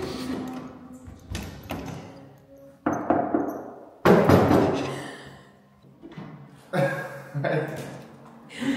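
A few hard knocks land on the door of an old apartment under major renovation, sharp separate raps spread between stretches of people talking.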